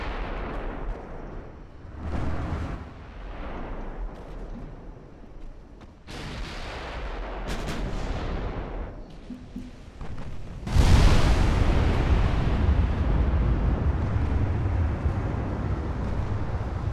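Naval artillery thunders in an Ultimate Admiral Dreadnoughts battle as a warship takes hits, with repeated booming gunfire and explosions building to a loud, sustained blast that rolls on to the end.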